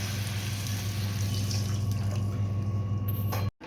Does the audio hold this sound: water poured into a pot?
yes